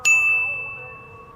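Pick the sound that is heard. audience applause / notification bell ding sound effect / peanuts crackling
notification bell ding sound effect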